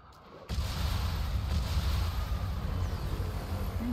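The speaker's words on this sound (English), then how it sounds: "Pretty fireworks." Fireworks go off in Spider-Man Remastered as a sudden loud onset that becomes a steady, dense roar of booms and crackles, with no voices.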